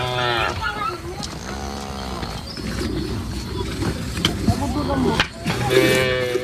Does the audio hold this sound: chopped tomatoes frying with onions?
no